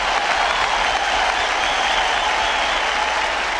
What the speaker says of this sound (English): Give me a hand clap on